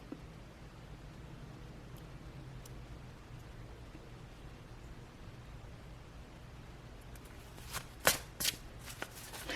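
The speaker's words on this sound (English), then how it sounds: "I started to shuffle" Tarot cards are shuffled in quick, crisp riffling bursts near the end, following a long stretch of faint, hissy room quiet.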